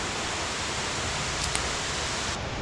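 Water pours over Tirathgarh Waterfall near Jagdalpur in Bastar and breaks into a fine spray, making a constant, dense rushing hiss that holds at the same level, with no voices.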